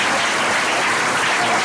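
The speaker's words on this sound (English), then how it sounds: "Let me give a round of applause for Fresh" Steady applause from an audience at an event, dense continuous clapping filling the whole moment at an even level with no voices standing out.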